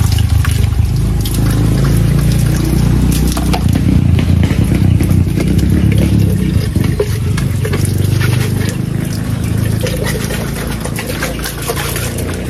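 Water runs and splashes steadily while a poultry drinker is rinsed and scrubbed, with a continuous loud rushing flow and occasional plastic clatter, close by with no talk.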